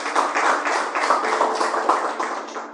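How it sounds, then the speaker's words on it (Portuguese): Church congregation clapping together for Jesus, rhythmic steady claps in a room, moderately loud and continuous without talk. "Palmas para Jesus"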